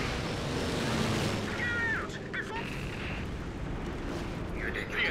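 Sustained battlefield gunfire and artillery rumble in the World War II strategy game Company of Heroes, a steady dense roar with sharper crackling bursts, under occasional voice.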